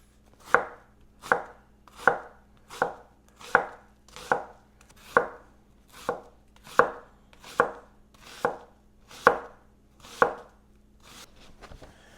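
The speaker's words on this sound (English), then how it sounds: "So we're supposed to finely chop the onion" A knife chops onion finely on a board, fourteen crisp evenly spaced strikes in a slow steady rhythm, close and clear with no talking.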